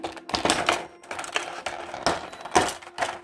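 The packaging of a Goku figurine is opened with close, busy clicking, snapping and rustling of plastic and cardboard in quick irregular bursts.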